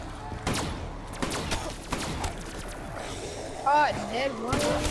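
In a zombie video game, fireworks go off as a burst of rapid popping bangs and crackles, mixed with game effects and close voices talking over them.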